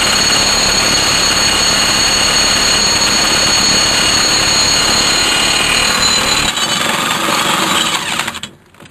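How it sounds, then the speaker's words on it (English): A DeWalt cordless impact gun hammers loudly and steadily up close for about eight seconds on a Toro mower blade, then cuts off abruptly. "DeWalt cordless impact gun conquers all."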